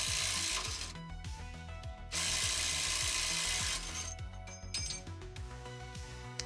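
A ratchet wrench backs out a 10mm bolt on a spring retainer clip during a van kit installation, with rapid repeated clicking in several bursts, some fast whirring spins between them, loud and close.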